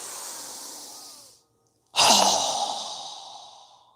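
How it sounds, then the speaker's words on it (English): Two forceful breaths in a yoga breathing exercise, a long breathy outflow that fades, a brief pause, then a sharp, loud exhale through the mouth that tapers off, close and alone. "strong exhale"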